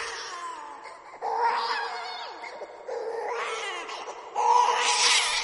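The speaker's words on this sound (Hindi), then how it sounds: "तभी उस कुएं से वहीं बच्चे की रोने की आवाज आती।" An infant-like wailing cry coming from a village well rises and falls in three long drawn-out bursts, each swelling louder than the last, heard alone without talk.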